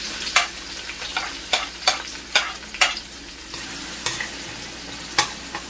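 Onions sauté with garlic in a pan for pancit palabok: a continuous sizzle under sharp, irregular spatula scrapes and taps, close and fairly loud, without talk.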